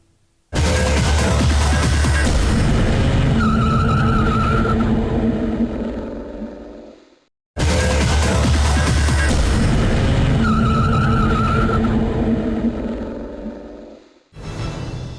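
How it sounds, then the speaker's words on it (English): BriSCA Formula 1 stock cars race at Buxton Raceway in the Peak District hills, engines roaring loudly and continuously in two long passes with a brief drop between them, tires skidding amid the din. "Some good action from the brisca Formula 1 stock cars so far."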